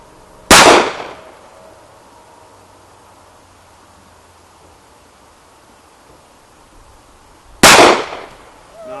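Two sharp, loud, close shots from a Sig Sauer P938 pistol at an outdoor range, spaced about seven seconds apart, with quiet background between them.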